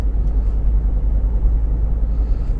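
A car drives along a road between Hythe and Folkestone, heard from inside as a steady low rumble of engine and tyres, unbroken and without any voices.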